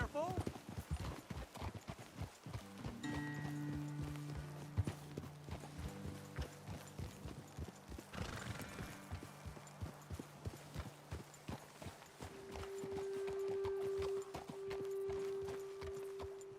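Horses ridden along a trail in Red Dead Redemption 2 make a steady, rhythmic clip-clop of hooves throughout, with voices talking over the hoofbeats and a few sustained tones underneath.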